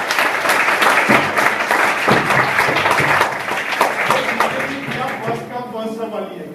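Students in a Class 9–10 classroom in Uttar Pradesh clap together in a dense, sustained round of applause that gradually thins out, with a teacher's voice speaking over the final seconds.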